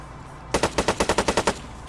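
Rapid burst of about ten gunshots fired at a vehicle's wheels in a video game, loud, close and evenly spaced, followed by quiet.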